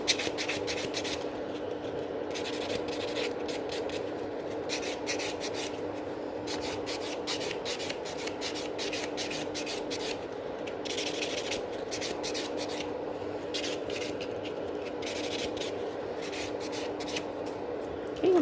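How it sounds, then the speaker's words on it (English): A buffer rubs over sculpted fiber gel coffin-shaped nails in quick, soft, rhythmic scraping strokes that continue steadily and quietly throughout, with no voices. "And then just start buffing it."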